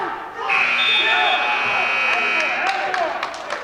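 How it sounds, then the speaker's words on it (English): A loud, sustained electronic buzzer ends a high school varsity wrestling round over an excited crowd, with scattered claps and cheering continuing after it. "And the buzzer will bring that to a halt."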